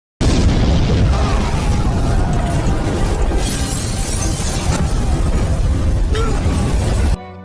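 A huge, loud explosion erupts at a bank entrance, a sustained roaring blast with shattering debris that rolls on for about seven seconds before cutting off abruptly.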